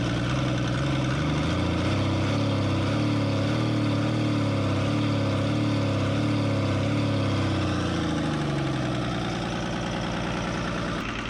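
A 1975 Chevy pickup's Isuzu diesel engine idles steadily at close range, a loud continuous low rumble with a faint knocking beat that eases slightly near the end.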